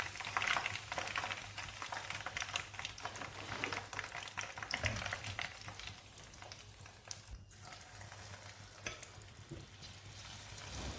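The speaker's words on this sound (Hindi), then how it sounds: "और बाकी के पकौड़े भी फ्राई कर लेंगे" Marinated chicken pakoras deep frying in hot oil, a continuous bubbling hiss with soft clinks and stirs, steady and moderately quiet.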